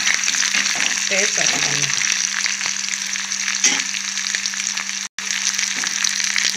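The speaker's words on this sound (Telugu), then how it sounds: "ఇదండి తెల్లుల్లిపాయలు వేసుకున్నాం అనమాట." Garlic frying in oil for a tempering, a strong, continuous close sizzle with a low steady hum beneath it, while a voice speaks briefly over it and a short gap cuts in near the end.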